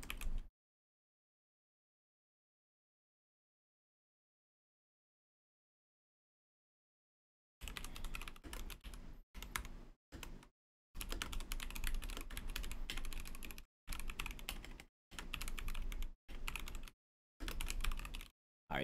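Bursts of typing on a Nuphy Air60 low-profile keyboard, close and clear, with short pauses between runs of keystrokes after a long silent stretch at the start.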